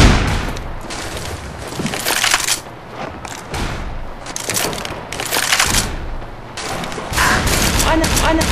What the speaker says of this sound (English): You guys keep shooting me.